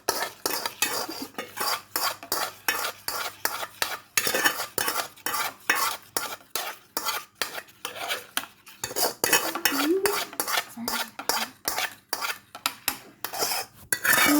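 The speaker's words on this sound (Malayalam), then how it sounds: "എന്നിട്ട് നമുക്കിത് നന്നായിട്ട് മിക്സ് ചെയ്ത് കൊടുക്കാം." A spoon stirs mango pulp into milk in a bowl or pan, giving steady, close scraping and clinking strokes against the vessel that repeat almost without pause, with no voices over them.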